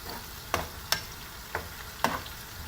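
Garlic frying in a pan until lightly golden, giving a soft steady sizzle under four sharp spatula clicks against the pan, spaced irregularly and heard up close.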